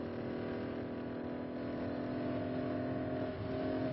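A Ligier JS2 sports car with a 3-litre Maserati engine, recorded in 1973, holds a loud, steady engine drone with rich harmonics, the pitch slightly shifting near the end, with no voices.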